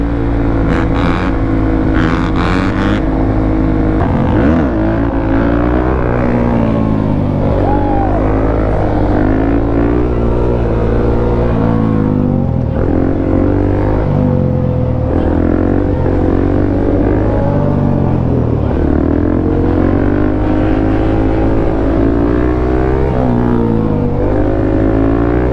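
Dirt bikes rev and ride nearby, engines buzzing loud with wavering pitch as throttles rise and fall, a brief sharp burst at the start and continuous motor drone throughout.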